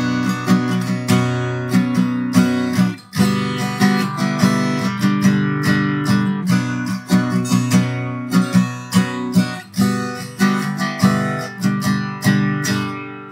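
A guitar plays the intro to "Iris" by The Goo Goo Dolls at full tempo, repeating a bright, ringing picked figure that sounds close and fairly loud, with no voice over it.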